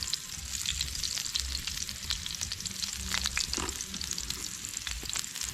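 Garlic sizzles and fries steadily in a hot pan as the start of a sauce for brown stew fish, a continuous close crackle with faint stirring and no talk.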